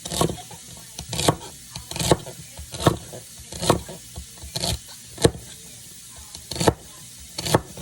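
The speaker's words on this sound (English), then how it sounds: "I'm chopping my celery" Knife chopping celery on a cutting board for creamy chicken soup, with about a dozen sharp, close thuds in an irregular rhythm and light rustling between strokes.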